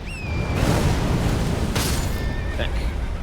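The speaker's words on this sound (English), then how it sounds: "Try not to get hit by the explosion." A loud boom and rumbling blast from an explosion in Elden Ring: Shadow of the Erdtree fill the scene with dense, continuous noise, a second burst following, amid sharp whistling tones typical of game effects.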